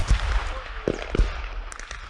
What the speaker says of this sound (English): mortars are incoming, get there quick, bunker down